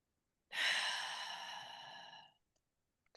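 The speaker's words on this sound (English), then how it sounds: "Deep breath." A single deep breath, drawn in and released as a long audible sigh lasting about two seconds, close and clear against near silence, followed by a couple of faint small clicks.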